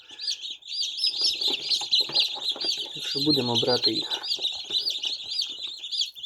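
Many newly hatched chicks peep continuously in a high, busy chorus, close up, while a person speaks over them in the middle.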